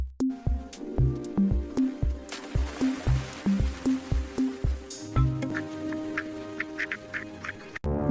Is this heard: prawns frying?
no